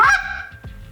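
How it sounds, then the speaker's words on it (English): A hand-blown goose call sounds the middle goose note, one loud, close honk followed by a brief softer second honk, with no voices. "But I call this the middle goose."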